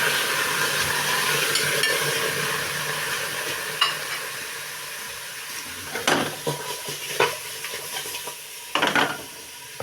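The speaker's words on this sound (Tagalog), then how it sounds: "Gisa-gisa muna tayo." Pork and aromatics sautéing in a pan for Filipino sinigang na baboy, a steady close sizzle with scattered scraping and stirring clicks that grow more frequent toward the end.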